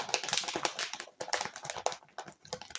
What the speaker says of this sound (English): Here's the sound of the out of air.